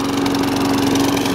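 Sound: lawn mower engine running

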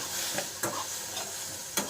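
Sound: vegetable curry heating in wok

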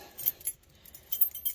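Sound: jangling original AMC car keys

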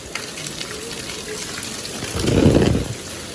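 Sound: heavy rain in a flooded Surat street

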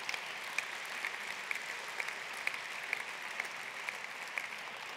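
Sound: applause at a political speech

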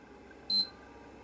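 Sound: PlayStation 3 console beep on restart

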